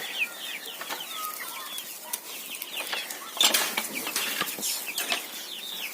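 A flock of 26-day-old broiler chickens clucks and chirps continuously indoors in a poultry house, with overlapping calls and a few louder squawks and rustles.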